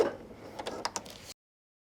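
A home sewing machine running a short back stitch while making a drawstring backpack, a brief burst of quick mechanical clicks and whirring that stops abruptly after about a second.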